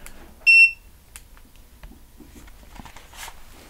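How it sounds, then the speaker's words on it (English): A single short, high electronic beep from a GeekVR Q2 Pro battery head strap as a VR headset is plugged in to charge, followed by faint handling noises and quiet rustling. "As you hear with that beep, it's going to turn on the headset"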